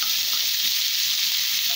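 Chopped green chilli, capsicum and carrot sizzle steadily in a hot pan while being stirred, a continuous bright frying hiss with soft spoon movements underneath.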